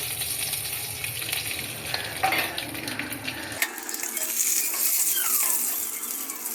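Dry red chillies, bay leaves and panch phoron temper in hot oil in a kadai, a bright crackling sizzle with clinks of a spatula, the fizz continuing after a low background hum cuts out.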